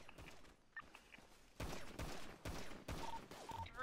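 Gunfire in a GTA shootout near oil fields: a fusillade of sharp repeated shots in uneven bursts, moderately loud, clustering toward the end of the clip with no speech.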